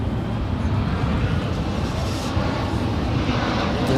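An American Airlines airliner takes off from runway 18 left at Dallas-Fort Worth, a loud broad engine roar holding steady throughout.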